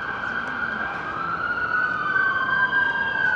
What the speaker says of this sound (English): Sounds like an ambulance siren.